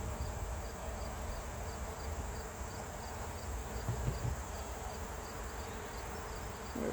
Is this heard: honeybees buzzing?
yes